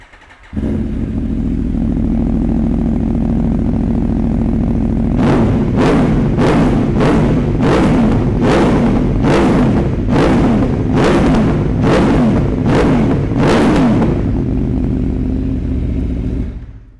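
An Aprilia Tuono V4 1100 Factory motorcycle with an Akrapovic exhaust idles with a deep, lumpy rumble, then is revved hard repeatedly in about ten sharp, throaty blips before settling back to idle, loud and close.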